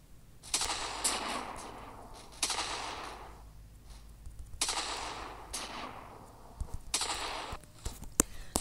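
Video game gunfire comes in several rapid bursts of shots, fairly loud and close, separated by brief pauses with low background noise.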